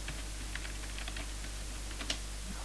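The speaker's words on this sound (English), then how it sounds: "I will type my password." Someone types a password on a computer keyboard while logging into an Ubuntu system, producing soft, scattered key clicks over a steady low hum, with one sharper keystroke near the end.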